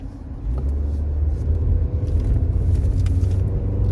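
A truck drives on a road nearby, a steady low rumble that grows slightly louder as it passes.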